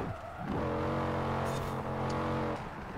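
An NSX's engine in a racing video game holds a loud, steady high-revving drone for about two seconds, rising in as it starts and dropping away at the end, with a faint skid-like hiss midway.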